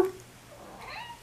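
An indoor house cat lets out a short, fairly faint meow that rises and trails off, heard close with a little room noise around it.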